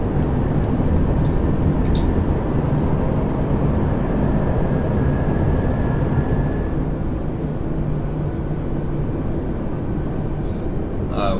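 Flybywire A320 airliner on approach in Microsoft Flight Simulator 2020, with flaps fully extended and landing gear down: a loud, steady roar of engine and airflow that runs unbroken throughout.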